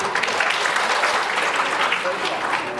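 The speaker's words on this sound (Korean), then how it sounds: "여러분 박수로 맞으십시오" Wedding guests clap together in a steady, dense round of applause that fills the whole stretch, with voices mixed in.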